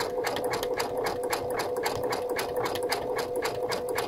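A Brother sewing machine satin stitching an applique runs at a rapid, even rhythm, its close, loud needle chatter steady throughout, with a brief spoken word over it.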